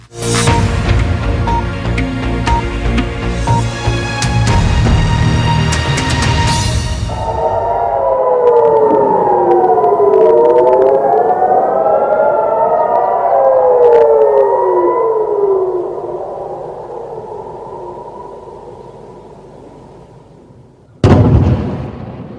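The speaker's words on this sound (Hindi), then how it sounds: "ये आवाजें इस्राएली हमलों की वजह से लेबनान में बजते सायरन की है और उसके बाद धमाकों की आवाजें" A loud wailing air raid siren in Lebanon during Israeli strikes rises and falls in overlapping tones for a long stretch, ending with a sharp blast near the end.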